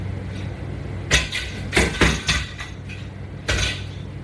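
Clanking metal strikes as a latch bar from the LW500 Latchbar workout exercise system is grabbed and handled, five or six sharp irregular knocks and rattles over a soft room hum, close and fairly loud, with no talking.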